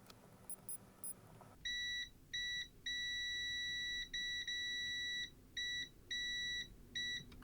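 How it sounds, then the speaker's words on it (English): A multimeter in continuity mode checks for shorts on the circuit board of a faulty Superway LED camping light and power bank, giving a run of steady electronic beeps of uneven length, clear and alone, after a few faint clicks. "Multimeter in the beep beep mode"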